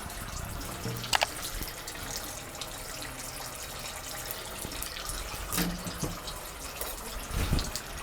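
Water pours from a kitchen tap into cornstarch to make a slurry, a soft running trickle with a few drips and light knocks of a bowl or utensil, no speech.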